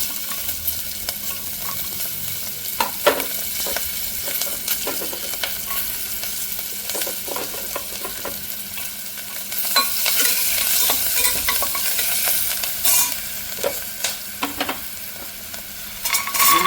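Green chili, garlic and peanuts sauté in hot oil in a single cooking pot, a steady close sizzle broken by repeated scraping stirs that grow louder and busier toward the end.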